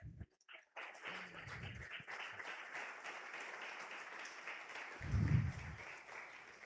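A church congregation applauding during a Sunday morning service: faint, distant clapping that swells from many hands and continues steadily, briefly rising louder near the end.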